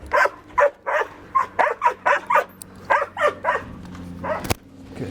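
A ten-week-old puppy close by gives a rapid run of high yips, barks and whiny whimpers in uneven bursts, loud and insistent, with a single sharp click near the end.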